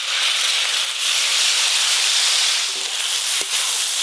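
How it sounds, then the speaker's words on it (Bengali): Grated tomato hits a hot pan of cooking okra and sizzles in a steady, loud, close hiss that carries on evenly for several seconds, with a faint knock near the end. "এবার গ্রেট করে রাখা টমেটো দিয়ে দেবো।"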